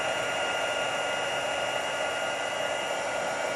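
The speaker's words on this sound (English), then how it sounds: "you have your fingers back, because this heat tool gets very hot" A heat embossing tool blows hot air over a stamped card to melt embossing powder: a steady, loud, unbroken whirring hiss like a hair dryer, running alone the whole time.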